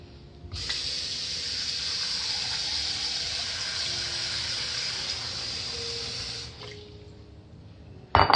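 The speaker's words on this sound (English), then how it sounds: "Now we're going to put some cold water, and I'm going to just keep rinsing it until the water turns clear." Cold tap water runs steadily for several seconds while rinsing homemade butter in a sink, a continuous close hiss that cuts off near the end, followed by a brief clunk.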